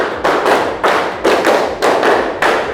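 Classroom clapping game with groups of hand claps in a steady rhythm, about five crisp, close claps evenly spaced with no talking.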